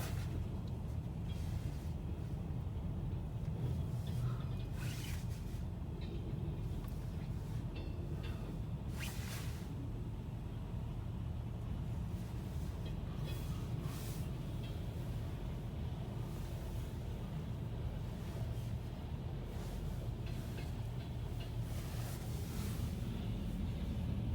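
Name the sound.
long freight train passing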